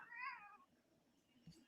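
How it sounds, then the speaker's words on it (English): A cat meows once near the start, a short clear rising call, followed by quiet room noise and a faint low thump. "Did you hear the cat there?"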